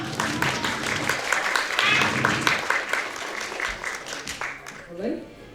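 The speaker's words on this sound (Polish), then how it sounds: "I wielkie brawa dla tej pani!" Applause from a small audience at a cosplay convention rises and fades while a voice talks over the clapping, ending in quieter speech.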